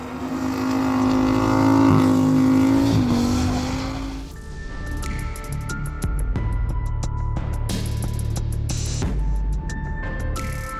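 A car's engine exhaust note as the car slides through a corner, a loud, steady droning tone that shifts in pitch, then gives way after a few seconds to mixed mechanical clatter and rumble.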